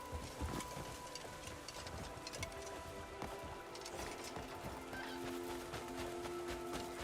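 Horse neighing in the video game Crimson Desert, heard amid a busy, steady wash of game ambience with hoof-like clatter; no talk over it.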